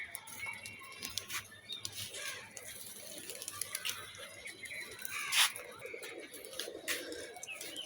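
Pigeons released on a rooftop coo softly and flutter, with faint patters and wingbeats scattered over a quiet outdoor background.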